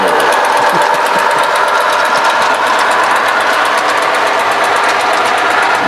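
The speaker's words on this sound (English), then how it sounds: "Erie TOFC train going by." A model Erie TOFC train runs past on a home layout, giving a steady whirring motor hum with faint clicking rail noise that stays even and close, with no talk.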